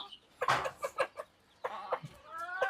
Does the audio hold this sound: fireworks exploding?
no